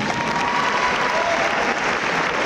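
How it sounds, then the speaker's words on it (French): Audience applause fills a French evening event, a steady dense wash of clapping hands throughout, loud and continuous with no speech over it. "On peut applaudir."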